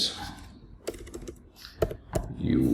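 Typing code on a computer keyboard during a C++ programming lesson, with a handful of close, irregular key clicks over low room noise, ending in a louder rustle.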